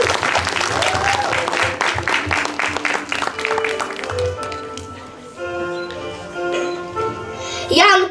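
An audience at a school theatre play on medieval times bursts into loud, dense applause for a knight, sustained for several seconds before thinning out as music and stage sounds take over.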